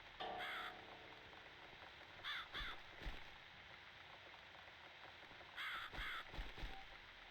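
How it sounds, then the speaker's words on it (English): A crow caws outdoors in short grouped bursts, two or three harsh calls at a time, fairly faint and at middle distance over a quiet background. "It's this damn bird again."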